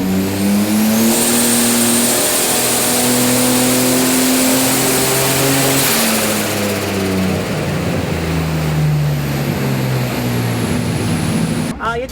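A Holden Commodore V6 with a compound turbo setup runs loud and close, its engine droning and rising and falling in pitch as it revs, with a sharp click near the end.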